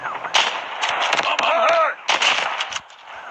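Sniper rifle shots and gunfire ring out in a Call of Duty Mobile team deathmatch, several loud sharp cracks in quick succession with clattering game effects between them.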